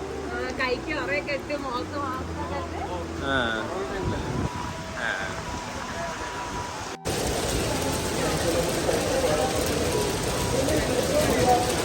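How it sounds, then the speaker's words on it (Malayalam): Voices and tonal sounds at first, then a cut to a dense, continuous roar of heavy rain pouring down. "നല്ല മഴയുണ്ട്"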